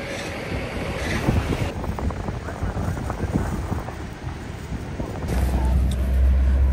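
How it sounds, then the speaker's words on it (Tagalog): Strong ocean waves roll in with heavy wind gusting across the microphone on a Cayman Islands shore, a loud, continuous rumble that swells toward the end. "Ang lakas ng alon."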